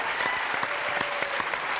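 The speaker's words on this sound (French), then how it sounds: "applaudissements pour ce canard" Studio audience on a French television variety show applauding for a duck and its owner, a steady dense wash of many hands clapping throughout, close and lively with no pauses.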